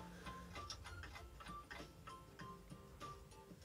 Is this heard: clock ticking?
yes